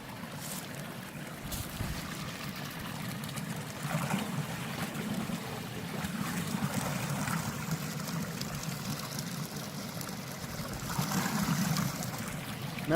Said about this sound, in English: I love the sound of a stream.